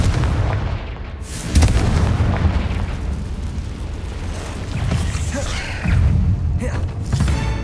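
An explosive Confringo spell blasts in Hogwarts Legacy, with heavy booming bursts, one strong hit early, then rumbling impacts and further blasts near the end, loud and close amid game combat noise.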